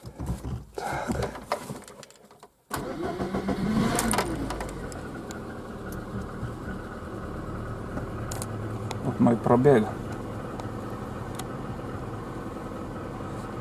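A Lada Kalina engine cranks and catches after a brief silent pause, then settles into a steady idle beside the car, while someone talks over it.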